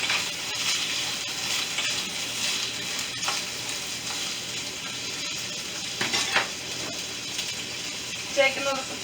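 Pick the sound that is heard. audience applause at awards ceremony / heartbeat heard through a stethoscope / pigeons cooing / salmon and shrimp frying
salmon and shrimp frying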